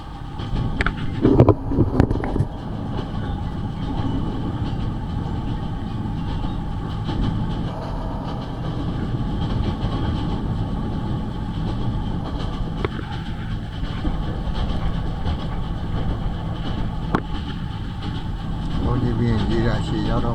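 A diesel multiple unit train rumbles along steadily with a low engine drone and faint rhythmic clatter of wheels, while people talk nearby, on the Nay Pyi Taw to Yangon line.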